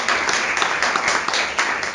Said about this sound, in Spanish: un aplauso para el doctor Velasco por la exposición.